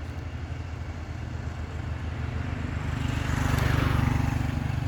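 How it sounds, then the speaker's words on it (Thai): A Hino FM 1A truck loaded with sugarcane labours up a steep hill, its diesel engine a steady low rumble that slowly grows louder and nearer, with no voices over it. "เสียงเครื่องนี่เดินนิ่มมากครับ"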